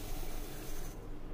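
Two cups of water pour into a pot holding four cups of sugar for gola syrup. It makes a dense, close hiss and splash that runs steadily, then thins near the end, with no voices.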